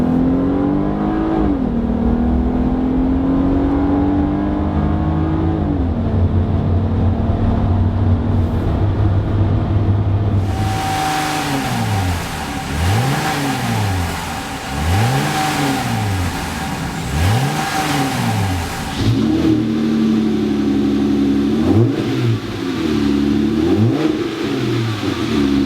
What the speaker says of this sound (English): go for a test drive and see how this aFe exhaust sounds